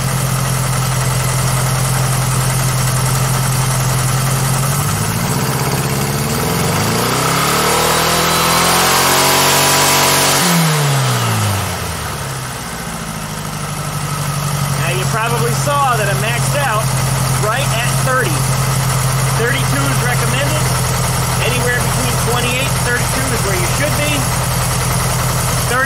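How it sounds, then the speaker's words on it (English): A rotten old 1956 VW Beetle engine with an 009 distributor idles steadily up close, then revs up through a rising and falling swell before settling back to a rough idle, with talking over it. "Let's rev it up."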